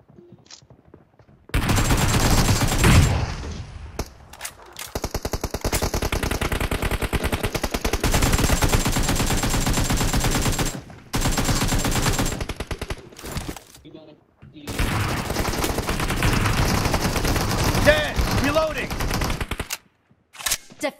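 An AKM fires in PUBG Mobile during a team deathmatch, with long loud automatic bursts of rapid gunfire broken by short pauses, and in-game voice callouts mixed in.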